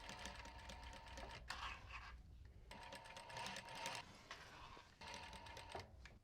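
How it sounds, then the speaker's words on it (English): A sewing machine stitches a small square onto a bum bag strap in several quick rattling bursts separated by short pauses, close and clear, with no voices. "And now I'm just going to sew the square to hold that in place."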